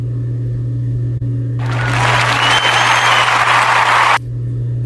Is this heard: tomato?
no